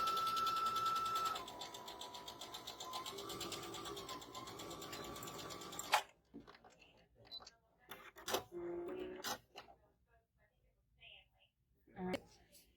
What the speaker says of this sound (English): we're just going to sew a straight line across that line that I marked